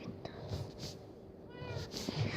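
A cat meows a few times, fairly close, while soft voices murmur underneath.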